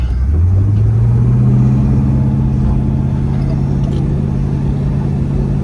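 A 1967 Pontiac GTO V8 accelerates from inside the car, a loud deep rumble climbing in pitch and then holding steady as the engine pulls.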